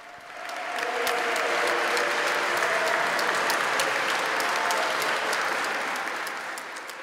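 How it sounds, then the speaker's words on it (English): Warm applause from confreres, friends and faithful greeting a Cardinal at the end of a Mass during the 2023 consistory in Rome, swelling in, holding steady and broad in a resonant space, then fading. "the Cardinal was greeted by a warm applause from his confreres"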